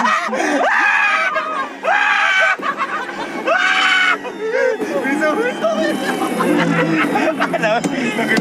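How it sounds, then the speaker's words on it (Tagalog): Several people scream and yell loudly in an outdoor group, overlapping shouts and shrieks filling the whole stretch with agitated chatter mixed in. "Sigaw, sumisigaw."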